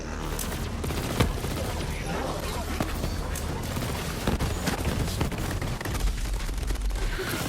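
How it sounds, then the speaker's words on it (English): Dense gunfire and laser weapon shots in Borderlands 3 rain steadily on the player, a constant loud barrage of rapid bursts and sharp cracks with brief louder hits throughout. "who the fuck is shooting me so much?"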